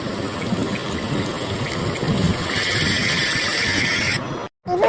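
Water pours steadily from a home shower, a continuous hissing splash that grows brighter near the end before cutting off briefly and resuming.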